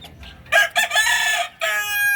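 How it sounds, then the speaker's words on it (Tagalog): Chickens and a rooster crow close by, loud and clear, with a couple of short calls followed by a long drawn crow and another starting at the end, no talking. "Ayan oh, mga manok natin sa taas."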